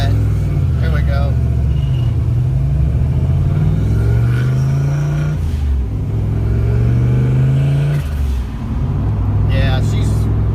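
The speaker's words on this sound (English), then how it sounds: "We got a request for a rev." A Fox-body Mustang on wet pavement revving hard: a loud, close, deep engine roar that climbs and falls through a couple of throttle blips, thick rumble underneath and barely dropping between pulls.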